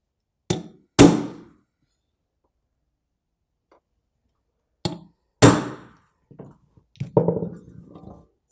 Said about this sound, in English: I'm using the center punch, which is here, to mark these holes properly.